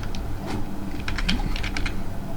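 Quick bursts of keystrokes on a computer keyboard while writing text in a Linux terminal editor, close and clear, in irregular clusters with short pauses and no talk.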